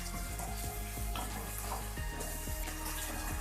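Tomatoes added to fried garlic-ginger paste sizzle loudly and steadily in a pan, with repeated scraping knocks from a stirring spoon roughly every half second.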